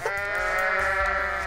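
A goat bleats in Goat Simulator, one loud, sustained wavering cry lasting over a second, close and prominent against a faint background.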